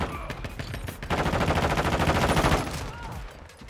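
A decoy grenade in Call of Duty: Modern Warfare 2 spits out fake gunfire, a dense rapid burst of automatic shots lasting about a second and a half, loud and close against a background of game noise.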